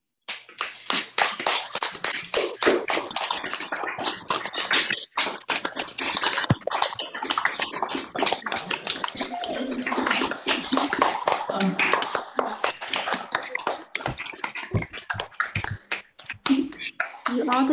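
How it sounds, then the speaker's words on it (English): Scattered clapping and applause from many separate microphones on a Zoom call after a piano studio's summer concert, dense uneven claps lasting throughout, with faint cheering voices mixed in. "give our performers a big round of applause"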